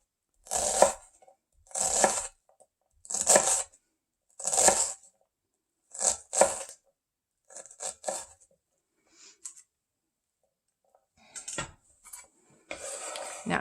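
Chef's knife cross-cutting an onion on a cutting board: a series of crisp, close chopping strokes in bursts, first evenly spaced, then quicker clustered cuts, with quiet gaps between.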